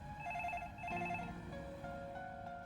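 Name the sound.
telephone ringing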